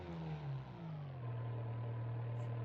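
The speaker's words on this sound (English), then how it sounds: "When the car takes off, the engine sounds brutal." A 680-horsepower car with slicks takes off, its engine giving a loud, sustained drone that drops in pitch then holds steady as it pulls away.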